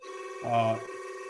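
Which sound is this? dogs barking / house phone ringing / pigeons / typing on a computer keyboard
house phone ringing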